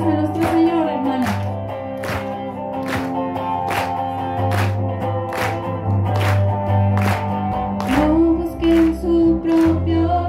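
A church congregation claps in steady rhythm during a Spanish-language praise and worship service, the beats ringing out over sustained music and singing, fairly loud and continuous throughout.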